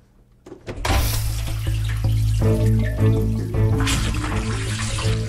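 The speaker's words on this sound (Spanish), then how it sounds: "Cogimos un lavavajillas, lo llenamos con los platos normales de cada día y le pusimos un detergente." A dishwasher loaded with ordinary everyday dishes and detergent runs with a loud, steady rush of spraying water and a low mechanical hum that starts abruptly and continues without speech.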